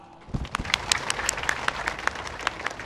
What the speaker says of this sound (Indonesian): Coba tepuk tangan yang meriah